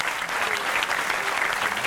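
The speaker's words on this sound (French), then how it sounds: "Ça s'applaudit." Steady applause from an audience at a university quiz game in Corsica, a dense continuous patter of many hands clapping at even loudness throughout, with no voices on top.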